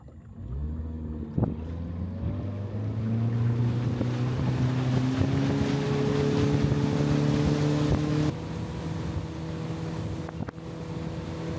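Motorboat engine droning steadily on a river, with rising and falling harmonic tones as the throttle changes, a small thump near the start and another around ten seconds, plus wind and water noise throughout.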